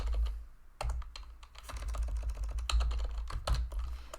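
Fast, uneven clicking of keys on a computer keyboard while typing a spreadsheet formula, soft and close, over a low room hum, with no talk.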